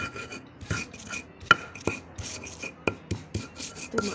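Spices being ground into a paste for spicy seblak, with close, steady rhythmic rubbing and grinding strokes and small knocks, fairly soft.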